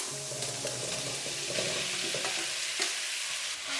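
Sticky rice-flour balls fry in hot oil with minced ginger, giving a continuous close sizzle with light stirring and scraping in the pan, fading slightly near the end.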